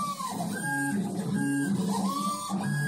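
A homemade mini CNC router engraver running under USB control with a G540 driver, its stepper motors whining in rising and falling tones as the axes move steadily, with no talking.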